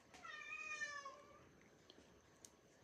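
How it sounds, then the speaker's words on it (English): A single drawn-out cat meow, quiet and close, followed by faint small noises in a hushed room. "you could hear them meowing in such glee and happiness."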